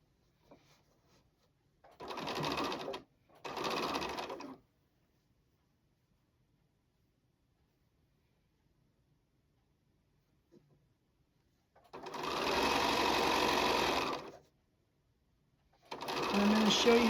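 A sewing machine stitches quilt block pieces in four bursts of steady, fast mechanical whirring, two short runs, then a longer one and another starting at the end, with quiet pauses between them.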